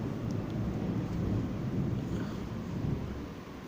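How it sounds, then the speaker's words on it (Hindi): Thunderstorm with strong wind roaring outside, a steady broadband rumble of thunder and gusts holding at an even level throughout, with no voices. "हो सकता है वीडियो में इस समय काफ़ी आंधी तूफान चल रहा है, उसकी आवाज़ आ रही हो"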